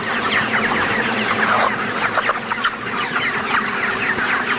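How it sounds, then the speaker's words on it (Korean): A dense crowd of young chickens clucks and chatters continuously inside a cramped farm shed, with many overlapping calls at a steady loud level and no voices. "경기도 안성시 보계면에 위치한 닭 사육장을 다시 찾았다"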